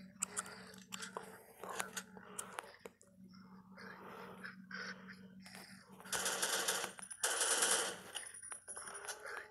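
Gunfire from the zombie shooter video game Zombie Evil Kill, with quick bursts of sharp, crackly shots spread across the clip at moderate level, some dense rapid runs near the end, and no voices.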